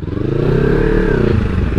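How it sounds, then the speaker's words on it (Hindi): A Kawasaki Ninja motorcycle engine running after being started, a steady, loud, close rumble with strong low harmonics and a slight rise in pitch midway, with no voices over it. "चलो भाई निंजा अपने सामने खड़ी है ऑन कर दिया भाई"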